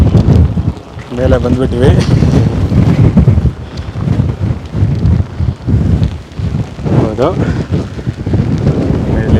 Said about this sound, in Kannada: ಗಾಳಿ ಮಾತ್ರ ಸಕ್ಕತ್ತಾಗಿದೆ